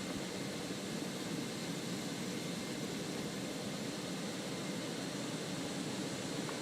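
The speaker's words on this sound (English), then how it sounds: "All right, so the LATAM is taxiing." A LATAM airliner taxis in Microsoft Flight Simulator 2024, heard as a steady, even roar of jet engine noise that fills the whole clip without change.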